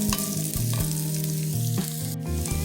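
Ingredients for vegetable beef soup sautéing in a pot, a steady close sizzle and crackle of frying with occasional stirring clatter, no voices.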